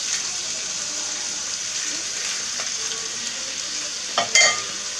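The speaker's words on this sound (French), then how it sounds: "donc on va bien saisir nos bébêtes, nos foies" Chicken livers sear in hot fat, a dense, steady hiss of close sizzling with a brief louder crackle near the end.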